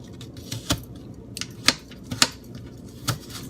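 A knife chops an apple into dice on a board, a series of sharp irregular taps and clicks close to the listener with quiet room noise between them.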